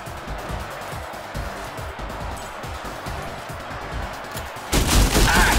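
Rapid gunfire in the turn-based video game ShowGunners, a dense stream of sharp shots layered over one another, ending in a louder burst of impacts near the close.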